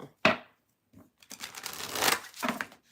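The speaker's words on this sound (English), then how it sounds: "Last deck to shuffle, shuffle, shuffle." A deck of tarot cards being shuffled in several bursts: one short riffle, a brief pause, then a longer continuous stretch of rustling and flicking of cards, fairly close and moderately loud, no talking.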